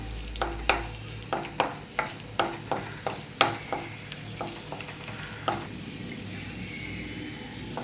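Cashew nuts and raisins sauté in a pan under a soft background sizzle, broken by a regular series of about a dozen sharp scraping strokes of a spoon stirring, close and moderately loud.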